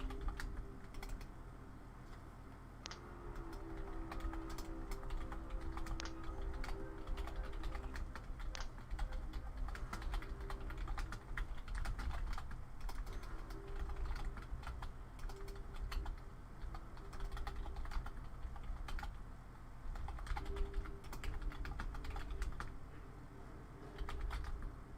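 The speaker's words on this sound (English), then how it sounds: "I'm typing" Computer keyboard keys clatter in an irregular run of quick taps and short bursts, soft and close, continuing for the full stretch with no one speaking.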